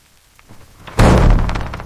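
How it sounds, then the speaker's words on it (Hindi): A single loud, heavy bang on a house door on a night of heavy rain, a sudden close thud after a quiet moment that rings briefly and fades. "दरवाजे पर जोर जोर से दस्तक की आवाज।"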